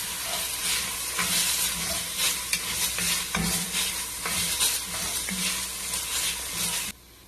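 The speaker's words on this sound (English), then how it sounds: "So we're going to stir it until you can smell the fragrance" Shallot, onion and garlic stirred and fried in a pan for Vietnamese meatballs: a steady close sizzle with repeated scraping and clacking of a utensil against the pan, ending abruptly near the close.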